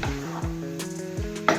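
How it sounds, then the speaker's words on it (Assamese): Chicken pieces fry on a high flame in a pan for a curry, giving a soft steady sizzle with a few stirring clinks and scrapes of the pan. "হাই ফ্লেমত ভাজি থাকিব।"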